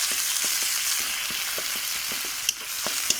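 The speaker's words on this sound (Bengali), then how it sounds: "ওই মাছ ভাজার তেলে আমি এই জিরে বাটা মশলাটা আগে আমি একটু" Ground cumin paste masala frying in oil left over from frying rui fish, a steady close sizzle broken by small crackling pops, with no talking.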